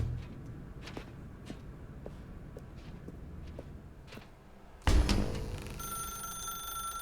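A telephone rings in The Stanley Parable after a stretch of soft footsteps and faint room ambience. The ring starts abruptly near the end and carries on loud and clear, with no one talking.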